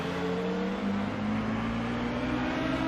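A 1990s touring car engine in the racing game Assetto Corsa, driven at Thruxton Circuit, accelerates with a smooth, steadily rising drone that holds at a constant level throughout with no voices.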